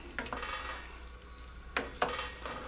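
Dried fava beans and potatoes being stirred in a cooking pot, a few close, soft scraping clinks of a utensil against the pot with quiet pauses between, alone without talk.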